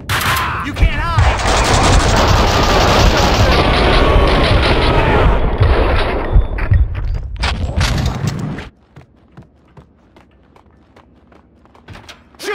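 Heavy gunfire and explosions in Max Payne 2, loud continuous volleys with booms and shouting voices, ending abruptly into near silence with faint scattered clicks and footsteps.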